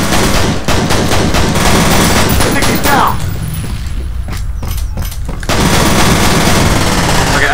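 Rapid automatic gunfire from a video game rattles in dense, loud bursts, pausing briefly near the middle before resuming, with occasional heavier booms and a voice speaking underneath.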